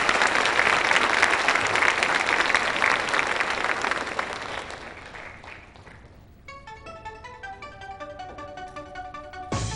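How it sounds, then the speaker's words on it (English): Applause at a school board meeting: a room of people clapping loudly for several seconds, fading out, then followed by a bright electronic chime melody. "We have a round of applause for Ben once again."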